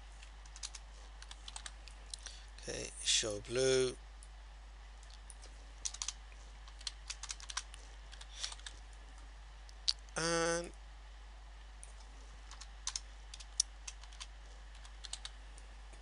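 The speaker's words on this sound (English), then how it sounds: "press F5 on your keyboard" Typing on a computer keyboard during a spreadsheet and graphics task, quiet scattered key clicks with two short bursts of faster keystrokes, while a person speaks briefly in between.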